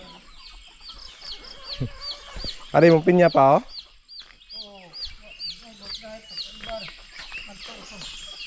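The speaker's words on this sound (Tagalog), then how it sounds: "sumama tayo dito si Papa magbigay ng pagkain ng manok" Chickens on a mountain farm cluck and squawk while being fed, a loud burst of rooster-like calling in the middle, with a person speaking briefly nearby.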